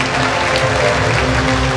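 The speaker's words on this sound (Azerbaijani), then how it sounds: "O könlümüzə də bir alqış düşür ki," Audience applause at a mathematics olympiad award ceremony, a steady dense wash of clapping filling the room at close range for the whole stretch, loud and unbroken.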